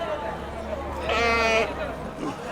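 An imported male goat bleats loudly in a single drawn-out call at a crowded Atpadi Kartik livestock fair, with people chattering and a busy hubbub all around.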